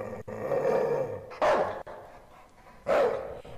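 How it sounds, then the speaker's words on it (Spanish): A dog-like creature with a human head barks in the Night People video game, two loud, harsh, snarling barks separated by a low growling pause. "Es el perro con cabeza persona que me está ladrando"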